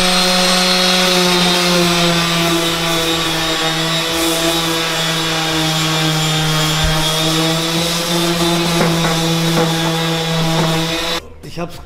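Steady, loud sanding of paint off an AMG car bumper, a continuous machine whine with a grinding rasp that runs without a break, then cuts off near the end.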